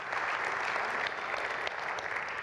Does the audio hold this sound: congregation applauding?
yes